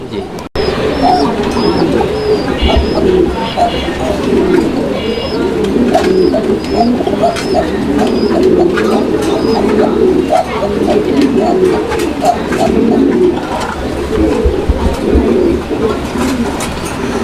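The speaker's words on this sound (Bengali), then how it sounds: "এই কোকার ডাকটা আমি আপনাদেরকে শোনানোর চেষ্টা করছি আপনারা কোকার ডাকটা কীরকম শুনছেন" Koka pigeons coo repeatedly in a rhythmic, throaty pattern close by, with faint background voices and a brief click at the start.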